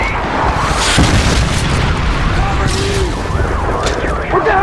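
A missile explosion in Call of Duty: Modern Warfare 2 lands with a loud, sustained boom and rumbling debris, one heavy blast rolling on amid battlefield noise.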